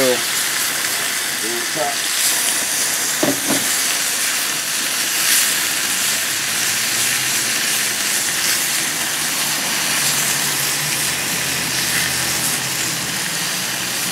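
Filet mignon and lobster sear in oil on a very hot griddle, giving a steady, loud broadband sizzle throughout, with someone talking briefly over it.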